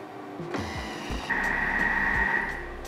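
A Thermomix kitchen machine creams butter and sugar at speed 3: the motor starts after a short quiet moment, then runs as a steady close whir with a sustained tonal whine and no talk.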